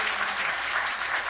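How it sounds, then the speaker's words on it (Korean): A church congregation at an evangelism festival service claps together, a brief burst of dense, even applause heard close and loud. "이런 때는 영광의 박수 하나만 올리겠습니다"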